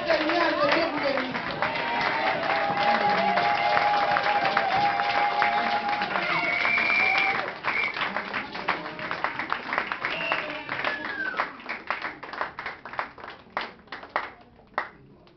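A church congregation applauds with dense, sustained clapping that gradually thins into scattered individual claps, with voices and cheering mixed in.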